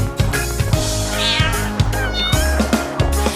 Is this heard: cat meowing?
yes